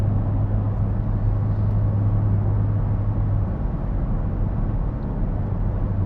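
A Porsche GT4 cruises steadily on the road, its low engine and road rumble constant and close throughout, with a steady low drone that drops away partway through and no talking.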